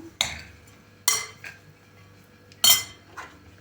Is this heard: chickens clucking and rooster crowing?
no